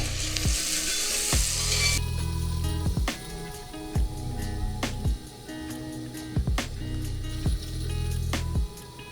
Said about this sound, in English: I'm going to add my onion. I'm just going to fry this until it's translucent